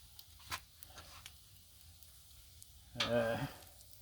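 Bacon cooking on a Blackstone griddle gives a faint, soft sizzle beneath scattered clicks, with a brief louder burst of sizzle and a short voice near the end.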